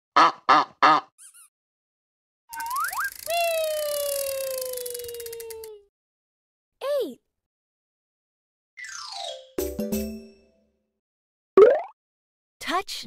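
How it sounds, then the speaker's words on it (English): Goose honks and other cartoon animal calls from a kids' learning game, loud separate bursts with silent gaps between them, including a long rising and falling siren-like wail. "Find the goose."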